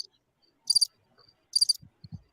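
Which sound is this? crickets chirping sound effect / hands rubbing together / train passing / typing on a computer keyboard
crickets chirping sound effect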